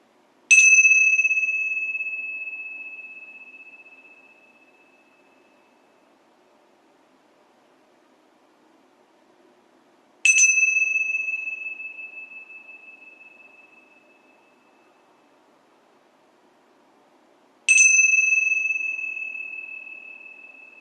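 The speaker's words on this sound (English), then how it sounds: "Listening to the sound of the bell as we enter." A meditation bell rings three times, spaced several seconds apart. Each strike is clear and bright and fades slowly into near silence before the next.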